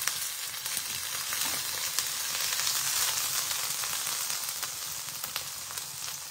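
Mustard seeds and onion sizzle steadily in hot oil, a dense continuous frying hiss with scattered faint crackles and pops, fairly close and alone without any voices.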